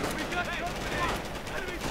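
Machine-gun and sniper fire crackle in a WWII strategy video game, bursts of gunshots mixing into a steady battle din beneath a commentator's continuous talk.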